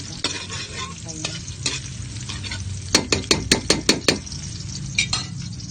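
Moringa pods frying in oil, a close sizzle with scraping and a quick run of sharp metallic clinks as the pan is stirred.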